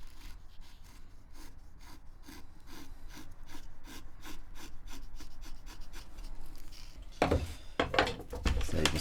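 A chisel or plane shaves the top of a wooden brace on a guitar soundboard in a steady run of close, rhythmic scraping strokes, growing louder and harsher near the end.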